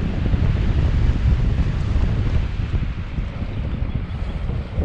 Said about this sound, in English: the wind is coming from the west and is pushing me in the forest.